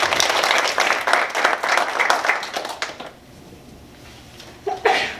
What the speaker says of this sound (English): Please give a round of applause to Mitzi.